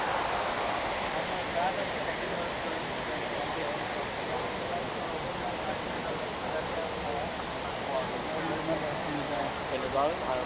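Water pouring into the 9/11 Memorial reflecting pools at the World Trade Center, a steady broad rushing roar without pause, heard nearby with a voice speaking over it.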